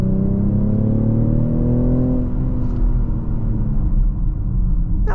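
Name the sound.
BMW X6 40i six-cylinder engine accelerating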